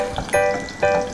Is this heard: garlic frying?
yes